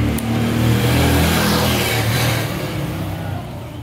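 A Yamaha XTZ125 motorcycle engine runs close by, a steady low rumble with a brief rise in revs, then settling, with no talk over it.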